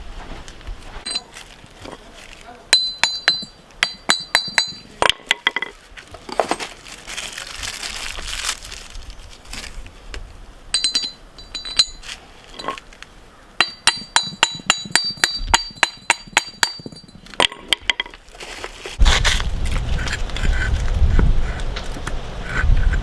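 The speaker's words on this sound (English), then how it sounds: "Let's go ahead and grab these studs." Metal wheel studs for a RAM 3500 are picked up and sorted, making bursts of rapid close metallic clinks and rattles between quieter shuffling handling noises, ending with a rougher rumbling clatter.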